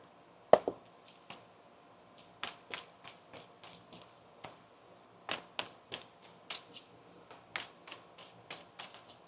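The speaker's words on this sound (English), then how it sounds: "One more shuffle here." Tarot cards being shuffled by hand, a quiet run of soft irregular riffles and taps, fairly close and without talk.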